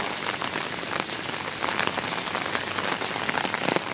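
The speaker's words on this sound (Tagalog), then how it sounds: "Buti nga umulan eh." Steady rain pours down onto hard surfaces during a black rainstorm warning in Hong Kong, a dense, even hiss of drops with no voices.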